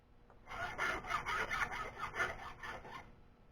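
A hand file deburrs the edges of a machined part for a Stirling engine helicopter, giving a series of rhythmic rasping strokes, close and clear, for about two and a half seconds.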